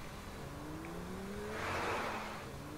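A car in the video game Saints Row 3 drives along with a steady engine hum, rising slightly in pitch as it accelerates, faint and continuous with no talk.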